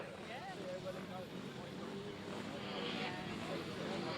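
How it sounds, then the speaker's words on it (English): An older engine on a grasstrack racing motorcycle drones steadily as it circles the track at the British Grasstrack Championships, distant and continuous beneath a commentator's talk. "Doesn't exactly sound overstressed either, does it, the old engine going round there."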